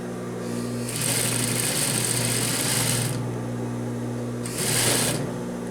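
A sewing machine runs in two bursts, stitching a seam on a pleated skirt with a yoke. A long steady run is followed by a pause and a shorter second run, close and fairly loud, with no voices.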